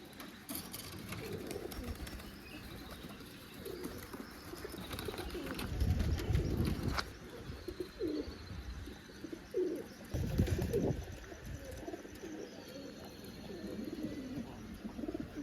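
Pigeons coo and flap about in an open outdoor setting, with soft repeated coos over a constant background hiss and a few louder bursts of wingbeats and movement, without speech.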